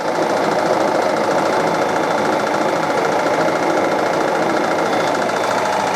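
Restored Reinecker gear hobbing machine cutting a long four-start rectangular-profile thread, giving a loud, steady, dense mechanical chattering and whirring drone throughout with no pauses.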